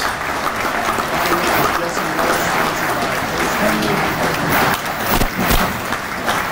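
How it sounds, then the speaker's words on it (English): A gathered crowd at a Legion event claps loudly and continuously, a dense wash of applause with voices talking underneath throughout. "So let's give these guys a round of applause."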